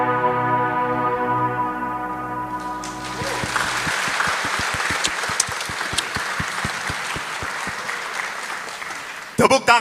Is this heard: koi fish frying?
no